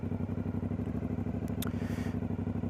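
A 2020 Aprilia Dorsoduro motorcycle engine runs with a fast, even rhythmic chugging pulse, close and moderately loud, with a couple of brief clicks partway through.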